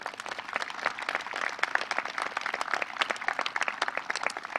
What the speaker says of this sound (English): Please give all our finalists a round of applause.